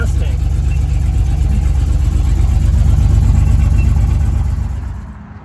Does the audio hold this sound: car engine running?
yes